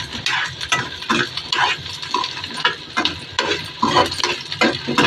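Onions and dried red chillies fry in a pan, crackling and sizzling continuously while a spatula stirs them in repeated scraping strokes, close and fairly loud with no talking.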